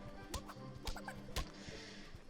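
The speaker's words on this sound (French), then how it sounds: "vous pouvez toujours frapper les poules" Chickens clucking in the Asterix & Obelix XXL3 video game, a few short sharp clucks and squawks spaced irregularly over a steady game background.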